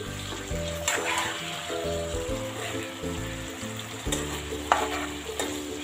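A spoon scrapes and stirs through a curry of drumstick, eggplant, potato and chapila fish sizzling in a pan, with a steady frying hiss and repeated metallic clinks of the spoon against the pan, close up.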